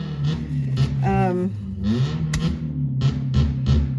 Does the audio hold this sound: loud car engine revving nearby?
yes